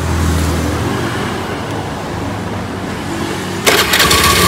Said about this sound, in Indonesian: ayo hidupin motornya.